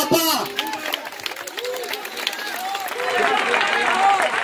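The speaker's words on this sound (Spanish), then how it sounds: "Dele ese aplauso a papá." Applause from a church congregation, scattered clapping mixed with crowd cheers and voices, building louder toward the end while a preacher speaks over it.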